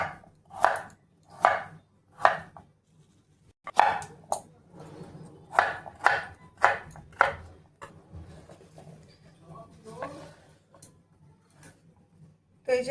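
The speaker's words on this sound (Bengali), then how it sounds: "তো এইভাবে একটু বড় বড় পিস করে কেটে নেব।" Knife chopping carrots into large pieces on a board, a steady series of loud, sharp thuds in bursts of three or four, then a softer scattering of smaller taps toward the end.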